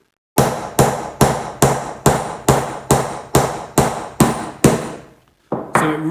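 Light hammer taps drive a wooden dowel into a furniture joint: about eleven evenly spaced, sharp knocks ring close and clear with short decays, then a brief pause and one final tap.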